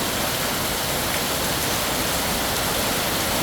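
Rain falls hard and continuously on a resort in Tha Muang, Kanchanaburi, a brief, steady roar of water with no voices or other sounds.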